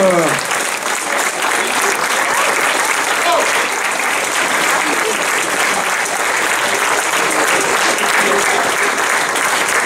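Sustained audience applause following a stage performance, a dense, even wash of many hands clapping at full volume for about ten seconds, with faint voices underneath.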